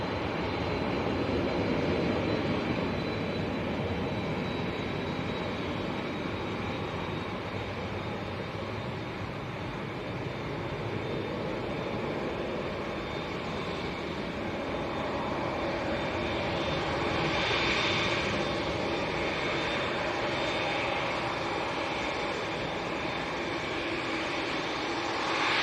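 A Boeing 787-9 Dreamliner bound for Doha sits at Manchester Airport as a steady, moderately distant jet engine roar with a faint high whine runs unbroken, swelling slightly near the end.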